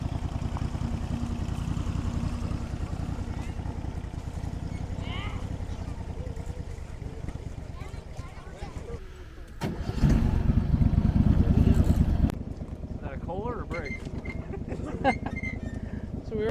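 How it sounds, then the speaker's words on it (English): A small Lehigh Valley diesel locomotive on a 7 1/4 inch gauge ride-on railway, its mower-sized motor chugging steadily nearby and swelling louder for a few seconds as it passes, with people talking around it. "that's basically a motor that's in that little Lehigh Valley diesel is about like a yard tractor mower"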